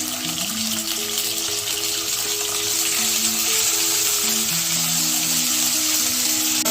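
Cauliflower roast with ginger paste fries in a pan, giving a continuous loud sizzle with a soft melodic tone running underneath and no voices.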